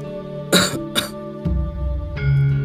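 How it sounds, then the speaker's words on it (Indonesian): A person coughs and clears the throat in a couple of short, loud, close bursts, followed by quieter throaty sounds over a faint humming background. "terdengar suara batuk."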